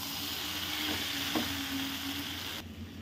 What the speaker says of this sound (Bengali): মিডিয়াম ফ্লেমে ভালো করে এটা এখন আমি ভাজতে থাকবো মশলার সাথে সব কিছু।